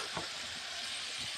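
Turmeric being stirred into eggs and Gobindobhog rice in a hot pan gives a steady low sizzle, with soft scraping stirs rising now and then over the frying hiss.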